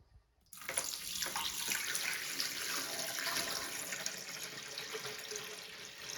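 Water pours steadily into a holiday fountain display, a continuous close rushing splash that starts abruptly after a brief moment of silence and keeps going at an even level.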